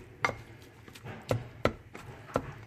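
A knife chops ingredients on a cutting board for crockpot turkey taco soup, four or five distinct, irregularly spaced thuds, close and fairly crisp with no talking.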